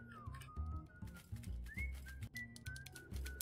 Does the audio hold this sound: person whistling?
yes